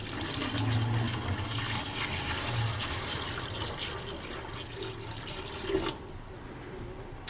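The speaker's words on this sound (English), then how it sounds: "Add your water in." Water runs steadily from a tap into a basin for washing a qiviut garment, a faint continuous splashing rush throughout.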